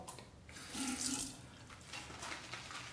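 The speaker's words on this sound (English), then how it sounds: "With the synthetic brush, you want to add the water sparingly as you go along." Tap water runs briefly into a synthetic shaving brush, a soft close splashing trickle with a slight swell in the middle, heard alone.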